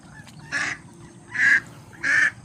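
Three loud nasal duck quacks, spaced about a second apart and close by, over a quiet low background hum.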